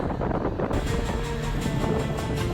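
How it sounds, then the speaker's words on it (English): Strong storm wind buffets the microphone in a dense, roaring rush, with broadband noise that could include heavy rain, steady and loud for the whole stretch without any talk. "Strong winds and heavy rain continue."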